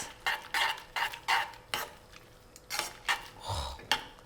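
Pasta with eggs is stirred in a pan: repeated scraping and clattering of a utensil against the pan in quick rhythmic strokes, close and fairly loud, with a faint sizzle beneath.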